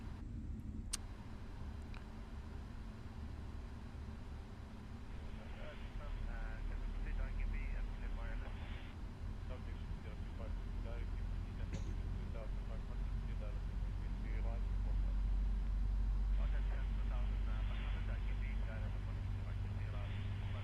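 Boeing 777 engine number two spooling up in the PMDG flight simulator, a steady low rumbling drone that slowly builds in strength, with talking over it throughout.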